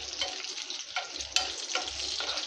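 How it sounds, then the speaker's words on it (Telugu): Mustard seeds and urad dal tempering in hot oil, a steady bright sizzle with crackles and short stirring scrapes, close and continuous with no talk. "అన్నిటినీ బాగా వేయించుకోవాలండి"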